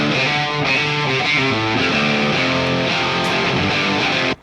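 Two double-tracked electric guitars recorded through a TONEX amp play together, a dense, distorted, sustained rhythm part that holds steady and loud throughout before cutting off abruptly at the end.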